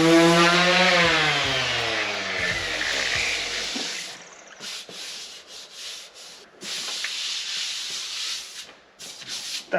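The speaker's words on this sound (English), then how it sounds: "I should have rubbed it down when I very first painted it." An electric sander works over a painted plywood kitchen panel in a camper van, starting with a descending whine as it spins down, then a steady close abrasive hiss broken by brief pauses.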